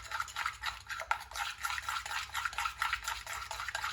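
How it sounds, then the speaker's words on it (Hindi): A multani mitti and yogurt face pack is mixed by hand, giving a soft, rhythmic wet scraping and swishing close by, steady for several seconds with no talk. "ऐसे आपने अच्छी तरह इसको मिक्स करना है।"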